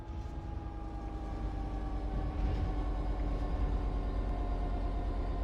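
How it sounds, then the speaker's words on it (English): A train in a train simulator game coasts on level ground with a steady, moderate rumble of wheels and running gear and a faint hum on top, continuous and even throughout with no voices. "The train will then coast on level ground, and the train will only slow down very gradually."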